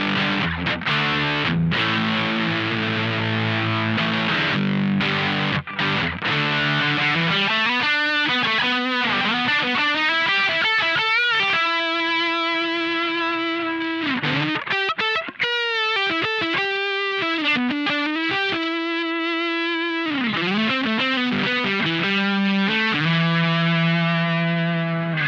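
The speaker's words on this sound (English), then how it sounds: "There's tons more of signal clipping there, and it's getting that really saturated sound coming through quite nicely." An electric guitar through a Menatone The King overdrive pedal with the gain up plays a long, loud run of distorted, saturated notes and bends with sustained phrases and some noise, close and without talk.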